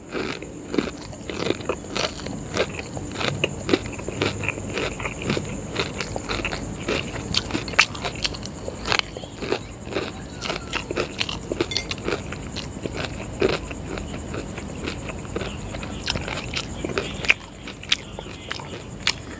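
Someone eats a crunchy, spicy-sweet dish of potato, tuna and rice with chicken woku, heard as close, loud, continuous crunching and crackling bites with chewing throughout.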